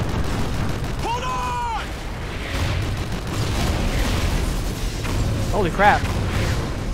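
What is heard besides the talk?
enemy artillery explosions in video game Call of Duty: Ghosts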